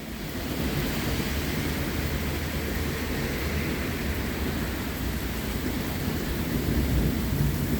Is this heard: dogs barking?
no